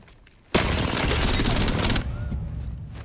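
Dense video game gunfire from hip-fire shooting, a sustained loud burst of rapid shots for about a second and a half before cutting to a quieter tail.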